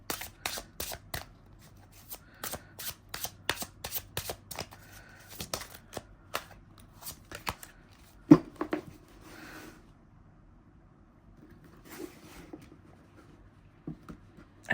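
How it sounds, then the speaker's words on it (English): A stiff new Aquarian tarot deck being shuffled by hand, a rapid run of crisp card riffles and snaps up close, then scattered softer taps and shuffles with pauses between. "let's see how well this shuffles"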